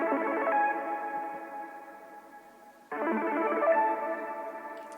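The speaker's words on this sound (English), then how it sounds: "I also have this ARP, which sounds like this." A sustained synth arpeggio from a self-made track, rippling steadily with a thick effected, echoing tone; it fades slightly, then restarts louder near the three-second mark, with no voices.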